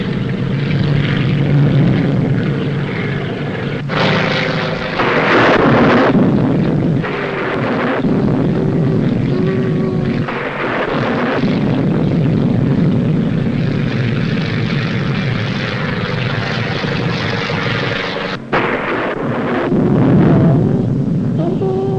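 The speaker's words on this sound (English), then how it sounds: "Ice is forming on the wings. I'm going down to look for a landing." A propeller airplane flies steadily overhead as it descends toward a landing with ice forming on its wings, its loud continuous engine drone filling the scene with a few surging swells.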